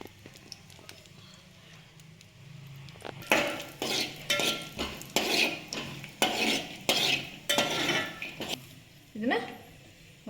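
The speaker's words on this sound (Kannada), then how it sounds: "ಇವಾಗ ಗೋಡಂಬಿ, ಬಾದಾಮಿ ಇವನ್ನೆಲ್ಲ ಹುರ್ಕೊಳ್ಳೋಣ ತುಪ್ಪದಲ್ಲಿ." A spoon stirs cashews and almonds roasting in ghee in a pan, giving a series of close, rhythmic scraping and clinking strokes against the metal with a light sizzle under them, after a quiet start.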